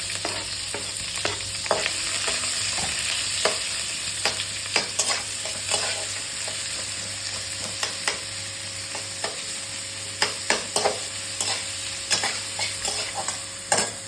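Onion, green chili and curry leaves sizzle in hot oil for a dal tadka, a constant crackling fry broken by repeated sharp clicks and scrapes of stirring, close up with no voices.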